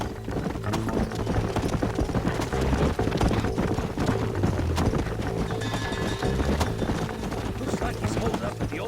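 Horse hooves clip-clop in the video game Red Dead Redemption, a steady rhythmic trot of several horses on the ground, fairly close, running continuously under background game sounds.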